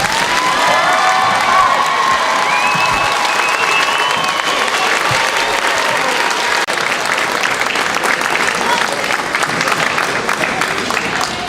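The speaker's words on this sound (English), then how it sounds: "Please, ladies and gentlemen, a huge round of applause." Loud, sustained applause for the graduating Munford High School Band class of 2019 at an awards event, with cheering, whoops and shouts from the crowd riding over the continuous clapping, some voices mixed in.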